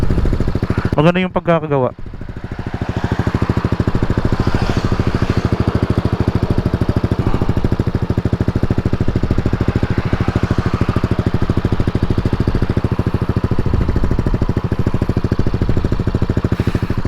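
Yamaha NMAX 155 scooter fitted with a JVT V3 power pipe exhaust, idling steadily at close range with a low, even engine drone throughout; a brief spoken remark at the start.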